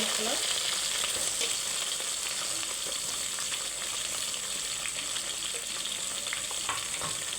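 Chopped green chillies and onions fry in a pan for Hyderabadi bagara rice, a steady close sizzle with light stirring and no talk.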